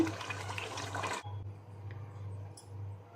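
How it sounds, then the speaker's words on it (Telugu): A strong rush of water pours into a cooking pot for biryani for the first second, then stops abruptly, leaving a steady low hum and faint clinks. "ఇప్పుడు దీంట్లో నేను ఎసరు వేసుకుంటున్నాను."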